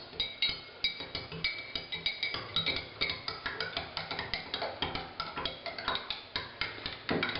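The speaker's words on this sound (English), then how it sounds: "We gotta just stir it till it's all dissolved." A utensil stirs lanolin into water in a container to dissolve it, making steady rhythmic clinks and scrapes against the sides, close and moderately loud, with no talking.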